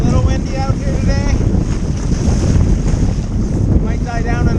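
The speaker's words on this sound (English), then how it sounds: "little windy out here today" Strong, steady wind roars across the open sea around a kayak off La Paz, blustery gusts and water noise filling the sound continuously with no one speaking.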